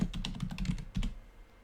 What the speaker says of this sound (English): So what I would do is just type sitemap.